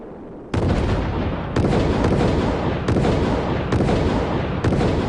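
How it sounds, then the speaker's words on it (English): Repeated explosive pulse detonations from the Project Orion test craft, heard as a series of loud, abrupt booming blasts at roughly one-second intervals, each rumbling into the next. "There's a film that shows this thing going bang, bang, bang, and up it goes a ways."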